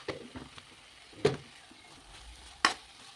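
Chili powder goes into a frying tomato and amaranth-leaf curry, with quiet stirring and two sharp spoon scrapes against the pan over a faint low sizzle.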